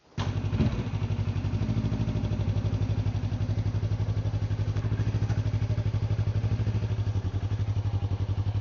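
A Yamaha R3 motorcycle being ridden gives a steady, close, buzzing engine drone with a fast regular pulse, starting with a short thump and clatter and holding an even pitch throughout.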